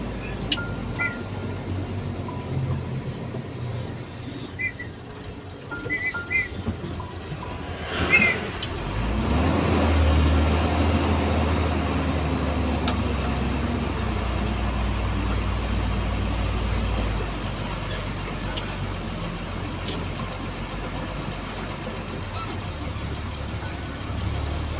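Road traffic at night on a dark rural route, a steady low rumble of many cars and trucks passing fairly close, with brief voices talking over it early on.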